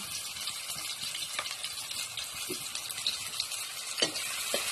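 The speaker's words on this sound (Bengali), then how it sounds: "ভালো করে নেড়ে ভেজে নেব পেঁয়াজটাকে।" Onions frying in a pan with a little salt, a steady broadband sizzle with a few soft scraping stirs of a spatula, close and continuous.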